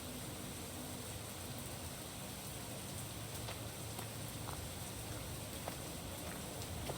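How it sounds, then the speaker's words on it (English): Rain falling in the Black Book video game, a steady, even hiss of dense rainfall that continues without a break, with a few faint ticks over it and no talking. "Run around in the rain."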